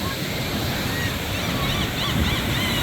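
Rough, shallow ocean water surges beside a long pier in a continuous loud wash, with wind buffeting the microphone and no speech over it.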